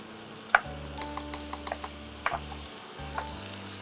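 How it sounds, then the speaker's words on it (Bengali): Crushed garlic hitting melted butter in a pan for a Bengali smoky dahi chicken gives a soft sizzle with a few sharp clinks and taps, over a low steady hum, with no talking. "আচ্ছা, এবারে থেতো করা রসুনটা দিচ্ছ"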